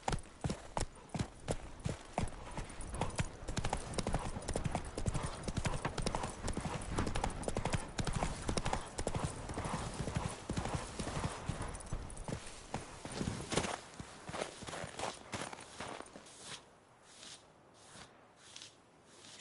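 Roach, a horse in The Witcher 3, galloping: rapid, dense hoofbeats pounding continuously for most of the stretch, loud and close, then slowing and thinning out near the end as the pace eases.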